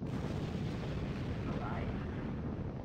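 A rocket launching in a video game gives a dense, steady roaring rumble that stays loud and constant throughout, with no pauses or talking.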